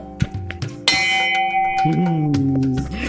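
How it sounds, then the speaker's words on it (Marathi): A temple bell is struck, ringing out with a sustained metallic tone that lingers, with some background noise and faint voices around it. "विहारने घंटी वाजवली"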